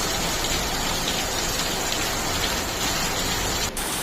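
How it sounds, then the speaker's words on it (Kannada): Heavy rain pouring down steadily in Gokak, water pooling in front of a house; a dense, loud, unbroken hiss of drops hitting surfaces, close by, with a brief dip near the end. "ನೋಡ್ರಿ ಗೋಕಾಕ್ನಾಗ ಮಳೆ ಎಷ್ಟು ಬರ್ರಿಗಿತ್ರಿ"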